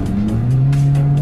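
A two-litre, rear-wheel-drive Toyota Altezza with an automatic gearbox being driven, its engine note droning steadily and climbing in pitch, with short rushing bursts of road or wind noise over it.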